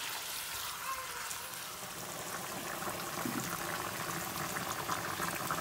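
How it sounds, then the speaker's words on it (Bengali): Chicken curry cooks in a pot with a soft, steady bubbling and simmering hiss that grows a little fuller toward the end, heard close and alone. "চিকেনটা রান্না হচ্ছে"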